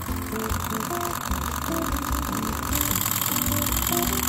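An OKMO R01 micro flame-powered engine runs and pumps water, a steady close mechanical hum with a busy rattling texture that stays continuous throughout, while someone talks over it.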